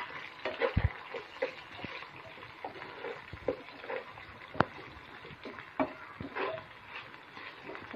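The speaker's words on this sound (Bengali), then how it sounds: "আলুগুলি একটু পেঁয়াজের সাথে ভেজে নেব।" Potatoes fry with onions in a pan, giving a soft, quiet sizzle broken by scattered crackles and stirring scrapes, with a few louder knocks.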